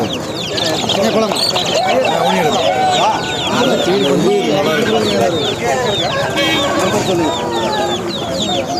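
Chickens and roosters cluck and crow steadily at a busy rooster and goat market in Kavundapadi, Tamil Nadu, with constant close calls layered under loud crowd chatter and nearby talking.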